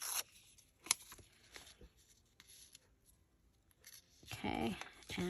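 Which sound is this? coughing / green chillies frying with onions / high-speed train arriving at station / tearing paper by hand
tearing paper by hand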